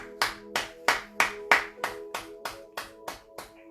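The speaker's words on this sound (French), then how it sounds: "Acclamons plus fort les rois des rois." Steady rhythmic clapping from a church congregation during a service, about a dozen sharp even claps in a row, close and fairly loud, with no voices over it.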